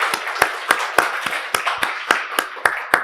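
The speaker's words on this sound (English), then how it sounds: "a round of applause, please" A small audience at a tech industry panel event clapping for the speakers, sparse and irregular distinct hand claps, a handful of people close by, with quiet gaps between claps and no talking.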